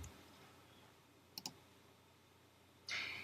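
Two quick mouse clicks in close succession from a computer mouse double-clicking a layer name in image-editing software, faint against a quiet room, followed by a brighter rustle near the end.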